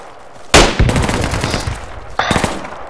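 An M240 machine gun fires in Project Reality, loud and close: one sharp opening burst is followed by a long rattling stream of rapid shots, then a second short burst after a brief pause.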